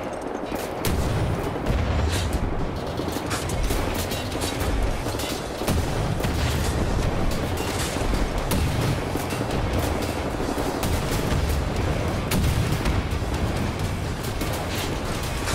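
Rapid, heavy weapon fire and explosive booms from a missile launcher in the shooter Wolfenstein: The New Order, a near-continuous barrage of loud blasts and impacts running the whole stretch with no voice over it.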